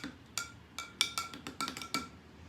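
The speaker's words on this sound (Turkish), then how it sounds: "çözülmesi için karıştırıyoruz" A spoon stirs dry yeast into warm water, giving a close, quiet run of quick, irregular clinks against the container, with no talk.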